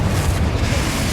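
A Confringo blasting spell detonates in Hogwarts Legacy as a continuous deep, loud rumbling boom that fills the whole moment without a break.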